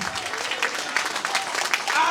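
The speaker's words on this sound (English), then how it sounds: "Please give a special applause for Amala." An audience at a Tibetan Losar celebration in San Francisco applauds Amala, steady crowd clapping with voices and cheers mixed in.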